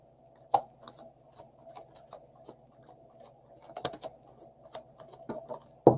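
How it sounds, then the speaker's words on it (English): Tarot cards being shuffled by hand during a live reading, a run of soft, crisp riffling clicks and taps in an irregular rhythm, close and fairly quiet, with no talking. "we got to give it one more shuffle"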